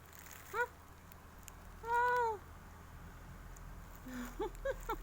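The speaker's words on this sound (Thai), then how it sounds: "อยู่กับแมวมีความสุขดี ทุกคนเอ้ย" A cat meows several times beside a pond during an outdoor picnic: one short meow, then a longer drawn-out one, then a few quick chirpy calls, close by over faint ambient noise.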